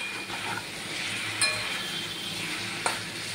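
Food fries in a pan, a close, steady sizzling hiss with a couple of sharp utensil clinks against the pan and no one speaking.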